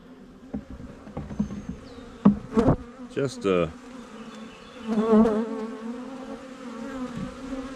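Honey bees buzzing on packed hive frames, a close, uneven humming drone with sharp bursts as individual bees pass near, brief murmured speech in between.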